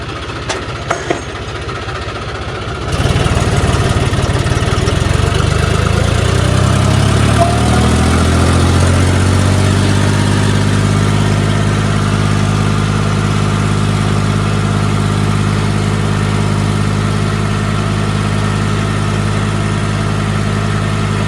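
A loud tractor engine rumbles to life after a few seconds of clatter, then idles steadily with a deep, even throb close by.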